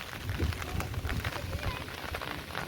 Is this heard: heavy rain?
yes